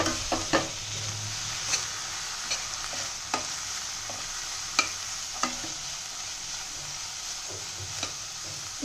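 Carrots, beans and capsicum being stirred and fried in a pan, with a steady soft sizzle and a few sharp scrapes of the spoon against the pan scattered throughout, close and fairly quiet, no talking.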